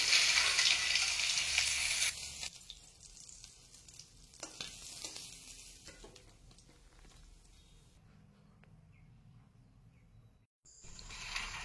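Fish pieces frying in oil in a kerahi sizzle loudly at first, then settle into softer crackling and stirring scrapes, with a brief near-silent gap before the spitting returns.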